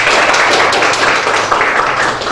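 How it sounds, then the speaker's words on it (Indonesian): Classroom applause from students, a dense, loud burst of clapping sustained throughout with no talk over it. "Tepuk tangan."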